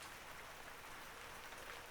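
Steady rain falls as a continuous, even hiss of drops on surfaces, soft and unchanging throughout with no voices.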